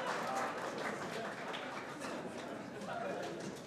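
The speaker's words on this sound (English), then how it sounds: "I think now we can applaud." Audience at a 2015 white coat ceremony breaking into steady, sustained applause, a dense wash of clapping that fills the room with murmured voices mixed in.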